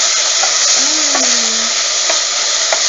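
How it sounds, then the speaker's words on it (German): White onions frying in a pan with olive oil: a loud, steady broadband sizzle close up, with a few faint clicks and scrapes, and no talk. "So, schön anbraten die Zwiebeln"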